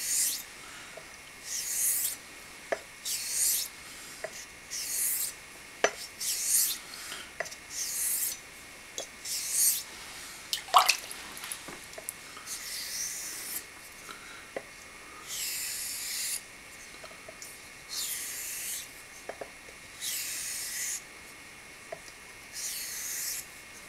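A straight razor or similar blade is worked back and forth on Shapton whetstones, giving rhythmic gritty rasping strokes with brief pauses between passes and faint taps, no talking.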